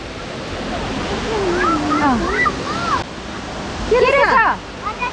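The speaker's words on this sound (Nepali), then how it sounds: "यो चाहिँ हो फेमस लाटपन्चरको जोगी खोला फल" The Jogi Khola waterfall at Latpanchar gives off a steady, full rushing roar of falling water that fills the whole clip, with people talking and calling out over it.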